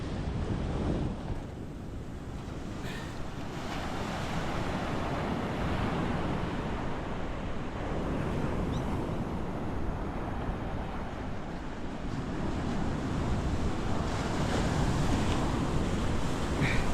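Ocean waves washing onto Balapitiya beach beside a campsite, a continuous broad roar of surf with wind buffeting the microphone, swelling and easing in slow surges without any voices.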